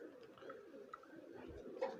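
A pigeon coos softly in a loft of flying pigeons, a few low murmuring calls with faint ticks in the background, quiet and somewhat distant.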